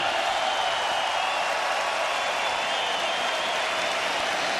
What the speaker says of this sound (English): As you can hear from this crowd, they are very much in appreciation of you and your performance here tonight.